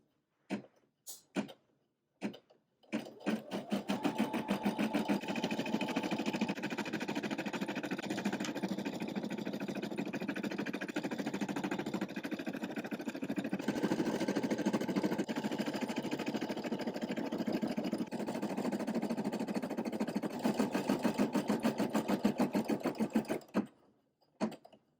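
A Brother PE550d embroidery machine stitches steadily for about twenty seconds, a fast, even mechanical chatter at moderate volume, preceded by a few clicks and stopping abruptly at the end, with no talk.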